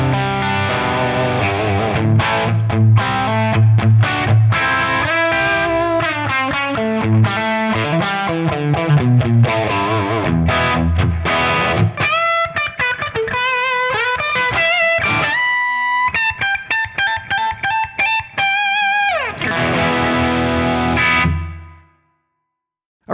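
Electric guitar played through a Tonex pedal on a high-gain setting on the second input, heavily distorted chords and riffs, then busier single-note lines and ringing notes, loud and continuous before a sudden cutoff.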